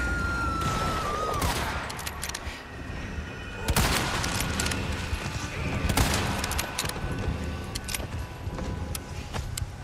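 Gunfire from the video game Resident Evil 4 Remake rings out as several sharp, loud bursts spaced irregularly across the stretch, over a busy game soundscape with no talking.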